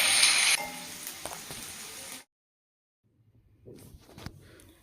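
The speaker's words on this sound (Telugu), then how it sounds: "ఈ ఉల్లిపాయలు గోల్డ్ కలర్ వచ్చే వరకు వేయించుకోవాలి కదండి కాబట్టి కొంచెం ఆయిల్ ఎక్కువ పట్టించి చూసుకొని వేసుకోండి" Onions frying in oil in a pan for egg dum biryani, a loud steady sizzle at first that eases, cuts to silence midway, then returns as quieter crackling sizzle.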